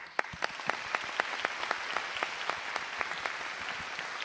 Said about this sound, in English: A round of applause for Kylian Drumont.